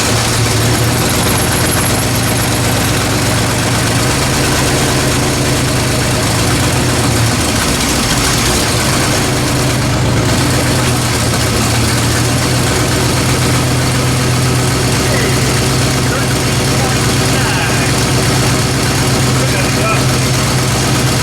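A Ford Bronco fitted with Holley Sniper EFI idles continuously with a loud, steady low rumble that fills the whole stretch, no voices audible over it.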